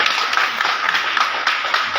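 An audience claps together at a City Press Club Faridabad gathering, a brief, dense burst of steady applause that stays fairly loud throughout with no voices over it.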